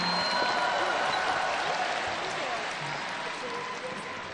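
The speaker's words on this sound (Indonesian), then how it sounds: "Sekali lagi boleh kita beri tepuk tangan yang meriah untuk Ruth Sahanaya." At a national Christmas celebration, a large audience gives a long, even roar of applause that slowly fades, with faint tones and background voices mixed underneath.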